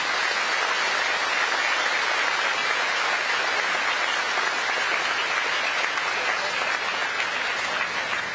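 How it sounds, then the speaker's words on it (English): A large crowd at a groundbreaking ceremony gives a dense, steady round of applause, loud and sustained without a break for over eight seconds. "Please give another round of applause."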